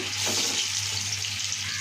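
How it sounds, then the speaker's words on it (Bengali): Cheese momos fry in hot oil, making a continuous close sizzle that holds steady over a low background hum, with no voices. "এবার আমরা এক একটা করে মোমো ছেড়ে দিচ্ছি। দেখুন, হালকা হালকা ফ্রাই মতন করে নেব।"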